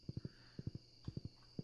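Horse hooves clip-clopping while riding in Stardew Valley, four quick triplets of soft thuds in a steady galloping rhythm, quiet and close.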